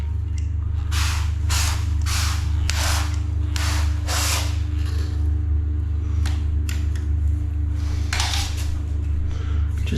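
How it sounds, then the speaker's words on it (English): A spray bottle of soapy water being squeezed during a silicone caulking job, giving a run of short hissing bursts in quick succession, a pause, then a few more, over a steady low mechanical hum. "Just give it a spray."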